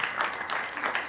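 Audience applause at a Georgian folk dance battle, a short burst of crowd clapping with voices mixed in.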